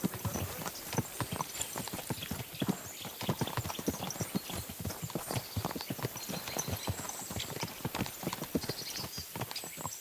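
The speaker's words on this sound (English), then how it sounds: "I wouldn't want that mare if someone gave it to me." Horse hooves clip-clop steadily and close by in Kingdom Come: Deliverance II, a dense even rhythm of many hoof strikes running the full length with no talking.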